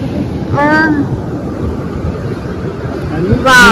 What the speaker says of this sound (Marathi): समुद्राला लाटा पण किती जास्त आहे.